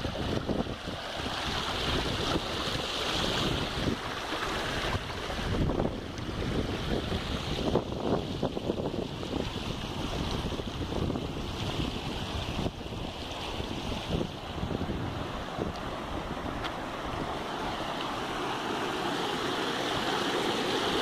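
A creek flowing over rocks, a steady broadband rush of running water with gusty wind buffeting the microphone, continuous and fairly close, no voices.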